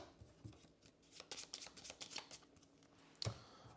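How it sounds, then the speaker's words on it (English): A deck of cards for the board game Aeon Trespass Odyssey gets shuffled with quiet, close riffling bursts and soft slaps, ending in one sharper tap as the cards settle. "so I'll give this a quick shuffle"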